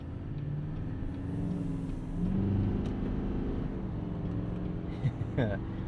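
A 2022 GMC Sierra 2500 pickup's 6.6-liter Duramax diesel V8 rumbles low and steady, swelling briefly as it revs, with a voice speaking faintly over it.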